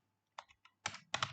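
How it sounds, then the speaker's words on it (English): Bursts of computer keyboard typing, a few quick keystrokes followed by two louder clusters of clacks, close and alone without talk. "What the hell's wrong with my keyboard?"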